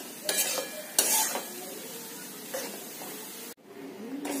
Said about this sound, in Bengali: বেসনটাকে আমি কম করে গ্যাস ভালো করে ভেজে নেব।